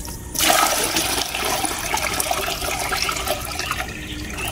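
Water pours steadily into a fish breeding tank, a continuous rushing gush that starts abruptly and stays loud and close, then eases slightly near the end.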